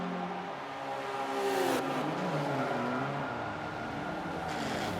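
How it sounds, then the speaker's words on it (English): Simulated race car in Forza 5 revving hard through a chicane, the engine note rising then dropping sharply at a rough gear change about two seconds in, followed by continued loud, steady engine drone with other cars nearby. "that sounded like a nasty gear change as well there from Jugs"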